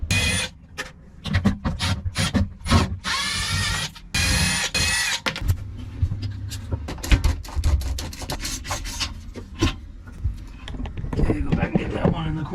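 Small number 1 Robertson screws are driven one after another along a wooden edge inside the underbed storage of a Hymer Aktiv 2.0 camper van, with close, rattling, grinding bursts separated by brief pauses.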